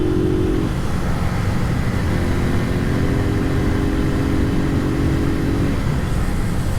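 Motorcycle riding and accelerating through the gears, heard from inside the rider's helmet, a steady engine drone with pitch changes between shifts, heavily masked by loud constant wind roar.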